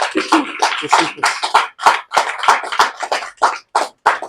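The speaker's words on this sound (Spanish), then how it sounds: "¿Cuántos le pueden dar un aplauso al Señor? Dénselo fuerte, pues." Church congregation clapping loudly together, a ragged burst of hand claps with sharp individual strikes, close and alone without talk.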